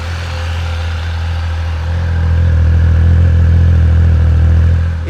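A Triumph Speed Triple 1200 RR Breitling Edition motorcycle idles with a steady, deep engine rumble and a light mechanical clatter, swelling slightly louder through the middle before easing back.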